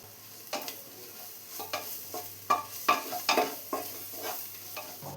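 Ginger, garlic and turmeric stirred in a hot pan for a squid roast: a soft sizzle runs underneath while a spoon scrapes and taps in irregular strokes, some sharper clinks standing out near the middle, with no voices.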